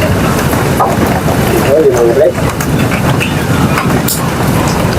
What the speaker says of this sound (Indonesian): Kebetulan lagi hujan tuh